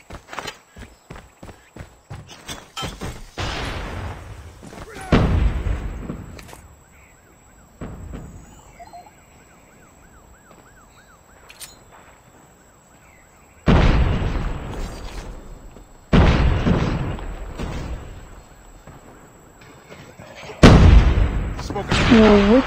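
Explosions and gunfire from a video game round involving C4 explosives, with several loud, heavy booms and bursts scattered through the stretch amid quieter clicks and game ambience.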